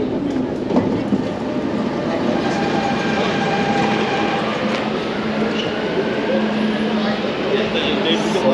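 Dubai Metro train running with a loud, steady rolling rumble and faint rail clatter throughout, with voices faintly audible in the background.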